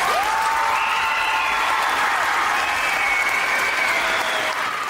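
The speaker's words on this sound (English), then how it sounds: "So give a round of applause to you guys again." A crowd applauds at a high school state championship football event, a dense, loud, continuous wash of clapping lasting throughout, with a faint sustained tone and some shouting mixed in.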